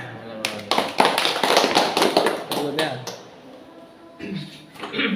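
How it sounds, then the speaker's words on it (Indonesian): A classroom group of students clapping after a presentation, a burst of quick, uneven claps lasting a few seconds, fading, then picking up again briefly at the end. "Tepuk tangan."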